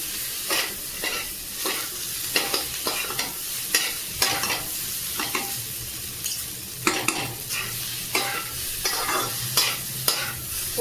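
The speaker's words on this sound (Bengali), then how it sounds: "ভালো করে এটা রান্না করে নিতে হবে নেড়ে চেড়ে" Maggi noodles stirred in oil in a pan, with repeated sharp scraping strokes at an uneven rhythm over a steady low sizzle, close and moderately loud, no voices.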